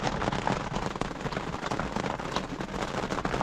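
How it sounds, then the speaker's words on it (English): Steady rain pours during an overlanding camp in Nevada, a dense hiss of drops pattering on surfaces, moderately loud and continuous with no voices over it. "Well, here comes the rain."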